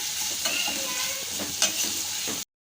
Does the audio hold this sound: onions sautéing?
yes